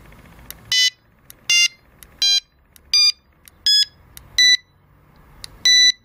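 An NGT fishing bite alarm gives a run of eight sharp electronic beeps as its sensitive wheel is turned, each tone brief and evenly spaced, loud and close against a quiet background.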